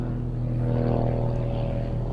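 Grob 115E Tutor propeller trainer with a 180 horsepower Lycoming piston engine pulls up into an aerobatic climb at an air festival, a steady droning engine hum heard from a distance, no talk.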